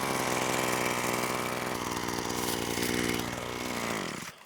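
A cheap Amazon string trimmer runs steadily at high speed near the hillside pine trees, its buzzing motor loud and continuous for about four seconds before it cuts off abruptly, with no talking.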